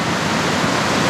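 A waterfall pours down a rocky cliff face swollen by heavy rain in Sydney's Northern Beaches, a steady, loud, close broadband roar with no break.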